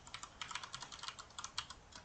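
Rapid, continuous typing of code on a computer keyboard, dense clicky keystrokes at an even fast pace, close and moderately quiet with no voices.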